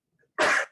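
A single short, explosive sneeze from a man in a county budget hearing room, close and loud, lasting about a third of a second after a brief quiet lead-in.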